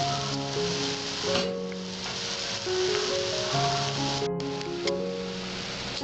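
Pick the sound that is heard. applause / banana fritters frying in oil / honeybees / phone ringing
banana fritters frying in oil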